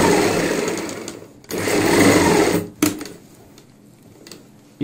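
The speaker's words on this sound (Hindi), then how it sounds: "अब हम यहाँ पे सीधी सिलाई लगाएंगे" Sewing machine running a straight stitch while attaching a zip on a box pleat palazzo pant, two loud steady bursts of motor whir separated by a short pause, then quiet with a click.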